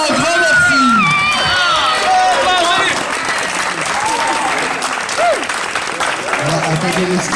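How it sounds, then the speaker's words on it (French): An audience applauds at a weekend community gathering: loud, dense, sustained clapping blended with crowd babble, and excited voices and whistle-like calls over it in the first few seconds. "Un tonnerre d'applaudissements pour Futurama, un grand merci."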